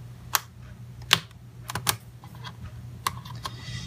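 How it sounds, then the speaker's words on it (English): Plastic clicks and snaps as a ThinkPad T470s laptop keyboard is pried and lifted out of its place, a few sharp close taps spread over a few seconds against a low steady hum. "Now, you just lift the keyboard out of its place."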